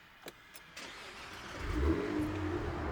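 A Cadillac CT4-V Blackwing sport sedan engine cranks and catches after a few faint clicks, then settles into a loud, low idle growl, heard up close.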